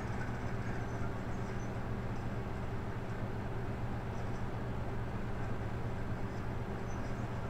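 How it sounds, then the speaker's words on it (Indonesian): A train rolls across a railway switch, going straight rather than taking the diverging track, a steady low rumble of wheels on rail heard at moderate level throughout, with no voices. "dia sudah berhasil melewati weselnya teman-teman ya"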